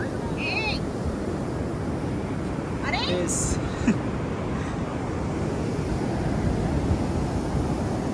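Sea waves wash onto a Konkan beach in a continuous broadband roar mixed with wind buffeting on the microphone, while voices speak briefly in the background.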